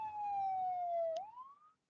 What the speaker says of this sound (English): A police car arrived.